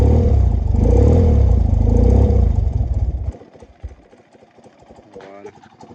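BMW R90S boxer-twin motorcycle with Dell'Orto carburetors idling cold while warming up, a loud close rumble that drops to a quieter uneven idle, with a voice talking over it.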